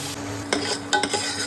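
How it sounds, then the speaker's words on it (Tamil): Soft sizzling of tomatoes frying in hot oil in a pan, with a few stirring scrapes and light clinks, close by and steady. "இந்த தக்காளி இந்த எண்ணெயிலேயே கொஞ்சம் கொதிக்கட்டும்"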